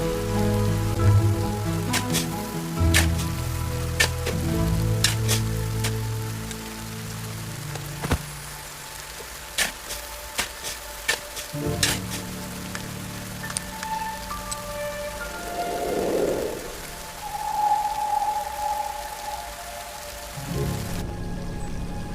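Video game rain patters steadily on a surface throughout, with a low tonal hum underneath and a brief muffled swell partway through.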